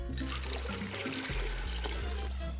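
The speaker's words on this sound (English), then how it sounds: "Add enough water to cover the beans by about an inch or two." Water pours steadily into a pot of beans for a couple of seconds, a close, continuous gushing splash that shifts in pitch as the level rises.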